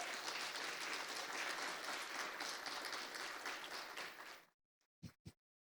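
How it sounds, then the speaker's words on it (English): An audience at an education conference plenary session claps in a dense, sustained round of applause that fades out, followed by a couple of sharp knocks. "Let us give him a deep round of applause."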